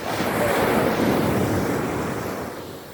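Ocean surf rolls onto the beach at Laiya, Batangas as a steady, loud broadband wash with wind noise buffeting the microphone, the roar easing slightly toward the end.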